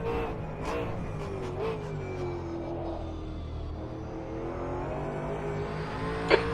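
A V8 Supercars race car at Bathurst in a racing video game holds a steady, droning engine note with smoothly shifting pitch. Faint background cars pass, and a brief sharp transient comes near the end. No one speaks.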